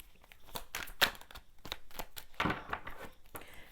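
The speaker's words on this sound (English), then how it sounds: "And I always shuffle on." A deck of tarot cards is shuffled by hand close up, giving a quiet run of irregular papery flicks and slaps, with no talking.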